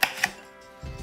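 Two sharp knife chops against a cutting board in quick succession, close and crisp, as the tips are cut off chicken wings, followed by a soft thud of handling.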